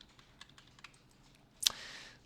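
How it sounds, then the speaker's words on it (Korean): Faint, scattered keystrokes on a computer keyboard lead up to one sharp, louder key press near the end, followed by a brief soft hiss. The setting is quiet and nobody speaks. "여기 안에 있는 거는 탭키를 눌러서 이렇게 지정을 하시면 됩니다."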